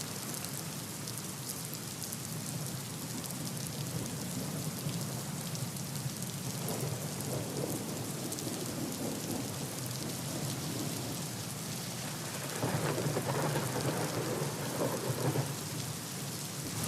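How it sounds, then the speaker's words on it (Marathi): Heavy monsoon downpour over Kamothe in the Panvel area, a dense steady roar of rain with distant thunder rumbling underneath, loud and continuous with a surge near the end. "कामोठे परिसरात देखील मुसळधार पाऊस कोसळला"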